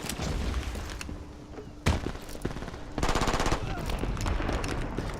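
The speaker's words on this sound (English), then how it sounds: "Enemy turret giving us some grief over there." An enemy turret in the shooter game Brink fires rapid machine-gun bursts, loud and continuous, with sharper single shots and a heavier blast mixed into the battle noise.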